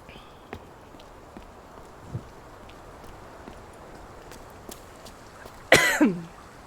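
A single sharp cough bursts out near the end, loud and close, after a stretch of quiet room noise with a few faint taps and shuffles.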